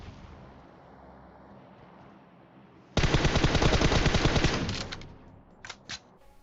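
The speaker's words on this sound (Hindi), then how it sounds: "अब एम4 मिली है और 6x भी मिला है, तो चलाना तो पड़ेगा।" Sustained automatic M4 rifle fire in PUBG Mobile, a loud close burst of rapid shots lasting about two seconds after a quiet stretch of ambient game sound, followed by a couple of short separate shots.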